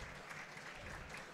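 An arena crowd at a women's handball match applauds steadily as an injured player walks off the court, a dense, even clatter of clapping hands.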